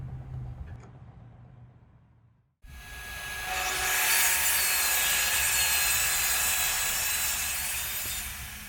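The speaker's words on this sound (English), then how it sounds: "now onto the table saw so we can cut the fence 3 inches" A table saw starts cutting wooden fence stock from glued leftover pieces, a loud, sustained close whine of the blade through wood after quiet shop sounds.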